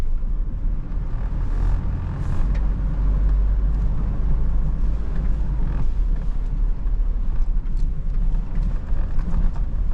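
A 2024 Toyota LandCruiser 70 Series dual-cab driving through a mud pit, with a steady loud engine drone, creaking suspension and body, and wind buffeting throughout, without talk.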